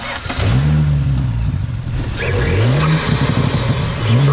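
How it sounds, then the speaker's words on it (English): Tuned 450 WHP B9 Audi S4 with a catless downpipe and secondary cat and resonator deletes, its engine idling and blipping with rising and falling revs, loud and close, alone without talk. "Let's get a clip and just hear what the engine sounds like from over here."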